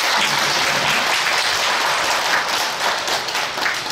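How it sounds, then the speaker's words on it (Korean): Congregation applause at a church worship service, a steady dense wash of many hands clapping that holds at full loudness throughout, with no talking over it. "하나님께 영광의 박수를 감사하겠습니다."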